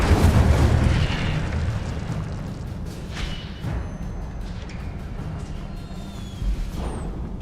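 A fiery spell cast in a Hogwarts Legacy fantasy game: a loud, explosive burst opens the moment, then settles into a rumbling, crackling roar that lingers underneath, with a few fainter pops and swells, no voices.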